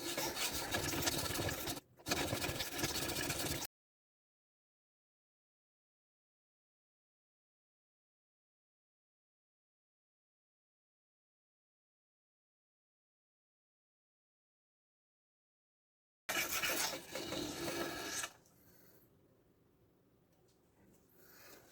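An S90V steel knife blade is rubbed in steady rasping strokes across a cheap $3 sharpening stone, close and continuous for a few seconds, stopping, then resuming briefly before fading to quiet.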